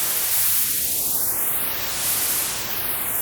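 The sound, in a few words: white noise through EQ filter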